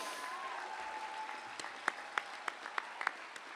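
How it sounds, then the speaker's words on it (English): A crowd at a university commencement ceremony applauds in a steady wash of clapping, heard from some distance, with a few sharper nearby claps standing out toward the end. "let's give them all a round of applause as well"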